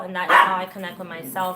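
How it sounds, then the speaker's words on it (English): Pet dogs playing nearby yip and bark in short bursts while a person talks over them. "Excuse my dogs because they're over there playing."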